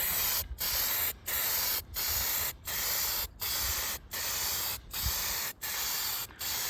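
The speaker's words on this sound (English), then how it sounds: "I'm gonna go outside and put another coat of paint on this whole intake." Aerosol spray paint can coating an engine intake for a small-block Ford 347 outdoors, a run of about nine loud hissing bursts separated by brief pauses, with faint low wind rumble underneath.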